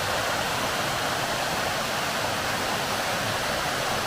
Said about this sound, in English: absolutely beautiful waterfall.